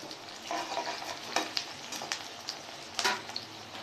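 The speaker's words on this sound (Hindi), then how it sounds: "प्याज को अच्छी तरह से फ्राई करेंगे।" Chopped onions with green chillies fry in a pan, a soft sizzle punctuated by several sharper scrapes and clinks of stirring, close but fairly quiet, with no talking.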